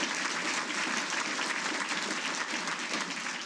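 A round of applause from a ceremony audience at a Hall of Fame event, dense and even clapping sustained for a few seconds, fairly close and continuous with no talk over it.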